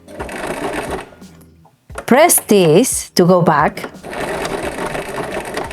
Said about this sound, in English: So you're going to start sewing